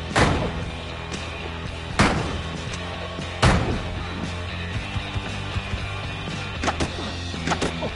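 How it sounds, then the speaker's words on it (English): Firecrackers go off in the video game Bully: three sharp bangs with ringing tails, spaced a second or so apart, followed by smaller crackles and pops over a busy game background. "I got some firecrackers now"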